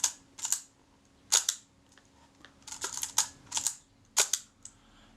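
Shutter of a Braun Paxette Reflex Automatic camera firing repeatedly, a series of sharp mechanical clacks and snaps in irregular bursts, close and crisp against a quiet room hum.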